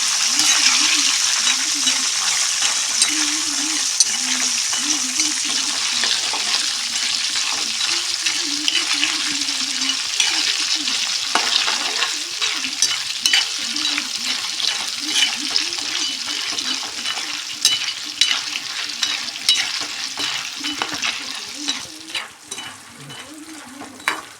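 Raw banana slices for chips, soaked with salt and turmeric, fry in hot oil with a loud, continuous sizzle and bubbling that lasts throughout, with occasional stirring clinks and scrapes and no speech.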